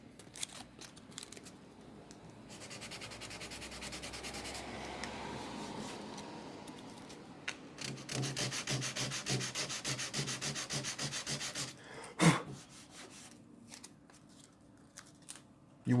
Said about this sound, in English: So I'm just going to hand sand it.